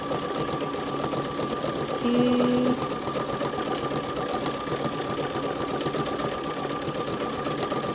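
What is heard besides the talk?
sewing machine stitching in zigzag mode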